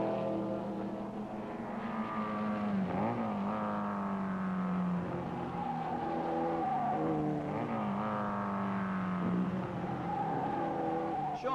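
Race cars at the Mosport circuit roar loudly, engines revving and shifting pitch as they accelerate and brake, with occasional tire squeal, continuous and alone.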